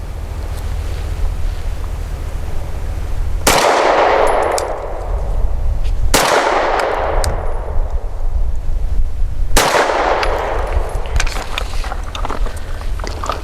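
Three sharp pistol shots from a Sig M17 X Change ring out loud and well spaced at an outdoor range, each followed by a long fading echo.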